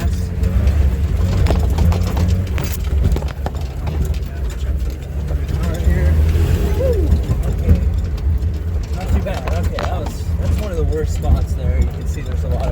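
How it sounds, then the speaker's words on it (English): A vehicle engine labours at high revs through a narrow, muddy jungle road in rural Mindanao, Philippines, a steady low rumble with surges of throttle running throughout, while someone talks over it. "Now he's gonna gotta keep those RPMs high through the slow mud bog area."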